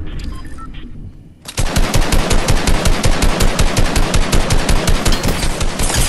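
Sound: gunfire in a shooting video game

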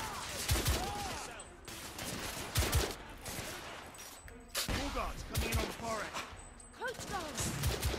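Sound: gunfire in the video game The Order: 1886

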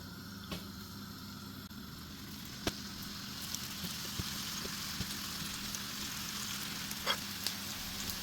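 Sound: meatballs frying in hot olive oil in a pan

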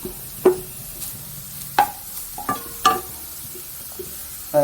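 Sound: sautéing browned onions with carrots in a pan

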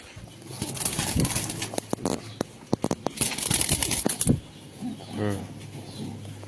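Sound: male Andalusian racer pigeon

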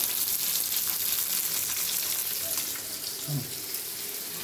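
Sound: fish frying in a pan

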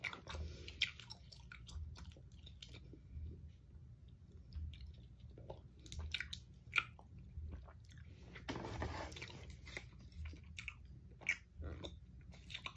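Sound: chewing strawberry Rolaids antacid tablets

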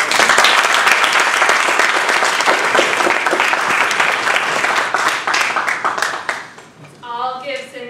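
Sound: audience applause at Toastmasters contest

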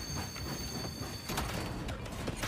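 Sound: train moving in video game Space Marine 2

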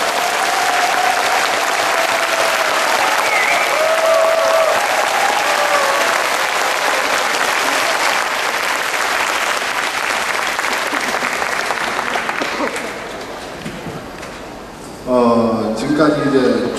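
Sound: audience applause for orchestra

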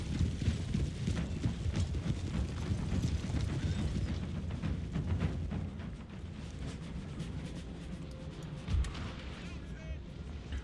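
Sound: cavalry horses galloping into position in Napoleon Total War video game

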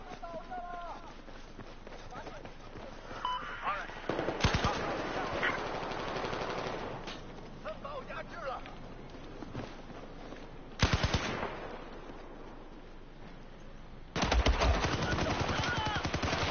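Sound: Type 88 LMG machine gun firing in Battlefield 4 video game

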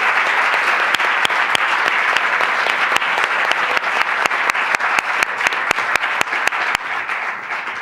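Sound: audience applause for panelists

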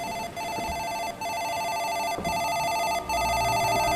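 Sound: telephone ringing in a horror video game

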